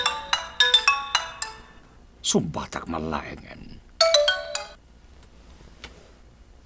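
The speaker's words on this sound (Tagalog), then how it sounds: "Saan ang nagkaponbok iti cellphone ko?" A cellphone ringtone plays a bright, repeating melodic pattern in two bursts, one at the start and one later, with a person talking in between.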